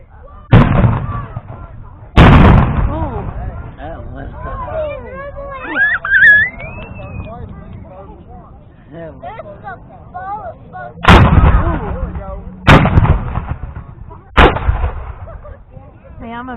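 Cannon fire at a Civil War reenactment at Point Park booms out in five loud blasts, two early and three spaced later, with people chattering and a whistle-like call in the gaps between shots.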